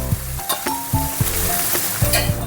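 Chopped onions frying lightly in oil for a cauliflower dish: a bright, close sizzle punctuated by quick rhythmic stirring scrapes and low pan knocks.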